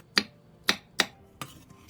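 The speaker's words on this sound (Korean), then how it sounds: "오이고추의 양 끝을 살짝 잘라낸 뒤 한 입 크기로 잘라주세요" Four sharp, crisp knife chops slice Korean cucumber peppers into bite-size pieces on a cutting board, evenly spaced and close, with the last one slightly softer, in a quiet kitchen.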